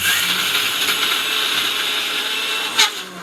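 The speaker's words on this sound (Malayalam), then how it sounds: "വറുത്ത് വെച്ച തേങ്ങയുടെ ചൂടൊക്കെ ആറി ഇനി നമുക്ക് അരച്ചെടുക്കാം" A mixer grinder whirs steadily and loudly as it grinds roasted coconut without any water, with a brief surge in pitch and volume near the end.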